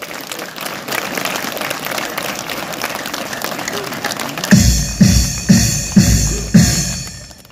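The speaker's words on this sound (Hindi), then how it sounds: "एक बार जोरदार तालियों से इनका अभिवादन करें।" A crowd at the Beating Retreat ceremony on the India-Pakistan border at Suchetgarh applauds steadily, then breaks into slower, louder rhythmic clapping in unison.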